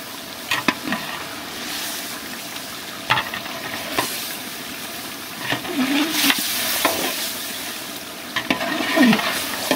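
Beef bhuna stirred in a pot as it fries, with scraping spoon strokes and sharp clicks over a steady, close sizzle.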